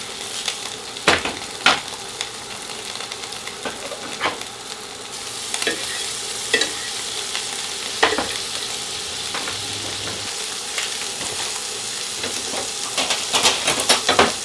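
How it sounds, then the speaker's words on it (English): Mushrooms frying in a pan, a continuous close crackling sizzle punctuated by sharp scraping stirs and utensil knocks at irregular intervals, growing busier toward the end. "I'll just cook up some mushrooms"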